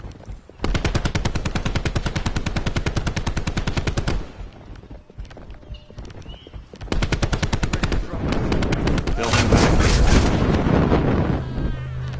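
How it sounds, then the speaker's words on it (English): Purifier weapon in Call of Duty Zombies firing in two long, rapid buzzing bursts, each a dense stream of shots. A short pause separates them, and the second burst grows rougher and louder toward the end. "Purifier firing."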